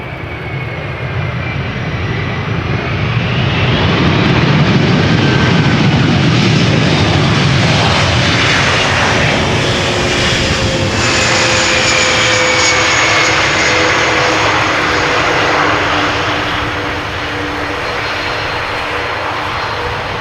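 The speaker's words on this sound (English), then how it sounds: "Arriving from Athens, A321." A loud jet engine roar swells as an Airbus A321 passes close by landing at Amsterdam Schiphol Airport, holding steady for several seconds before slowly fading, with no talking.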